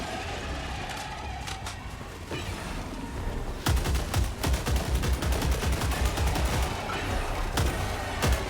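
Rapid gunfire from a weapon in the video game Helldivers 2: dense bursts of sharp, loud shots start a few seconds in and keep going, over a steady background of battle noise, with no talk.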